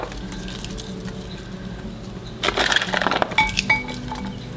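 Baby carrots and half a large onion being mixed in a crock pot, with a burst of clattering, knocking and scraping about halfway through, then a few more clinks against a quiet background.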